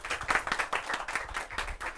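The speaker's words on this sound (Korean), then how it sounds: "한동혁 군을 큰 박수로 맞으세요" Audience at a youth conference in Busan applauding to welcome a young documentary filmmaker onto the stage: dense, steady clapping from a crowd, loud and continuous for the whole stretch.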